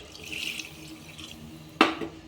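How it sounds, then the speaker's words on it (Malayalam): Water runs in a steady stream, then a sharp splash lands as it hits a cooking pot of chicken for biryani, with a brief gush afterward; no voices. "നമുക്കിനി വെള്ളം ഒഴിച്ചു കൊടുക്കാം"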